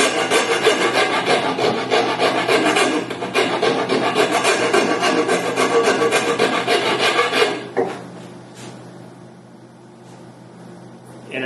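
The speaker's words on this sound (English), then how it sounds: "this is a Nicholson 49 rasp" A Nicholson 49 rasp shapes wood on a Queen Anne side chair part with rapid, continuous, close scraping strokes. The strokes stop abruptly, leaving a quiet stretch of faint room noise.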